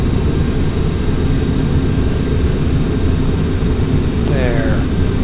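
A de Havilland Comet's jet engines hum in a steady, loud cabin-style drone during a Flight Simulator X flight over the Mediterranean, throttling back with a brief descending whine near the end.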